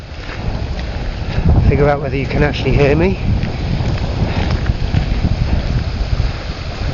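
Strong wind buffets a microphone outdoors in Cornwall, between Liskeard and Davidstow Airport, a loud continuous low rumble and roar as someone speaks briefly over it.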